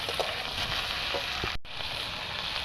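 Chopped onion, tomato, garlic and green chilli sizzle in a pan for pasta, a steady close hiss of frying with a few soft stirring taps and a brief dropout midway.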